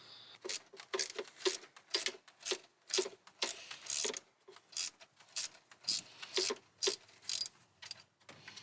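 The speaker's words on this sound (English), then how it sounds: "Now you're probably going to have to loosen that big tension one again because I tightened it up." Ratchet wrench working the tensioner bolt on a 1993 Toyota Corolla during a V-belt replacement, heard as repeated close bursts of fast mechanical clicking in steady strokes, with no one talking.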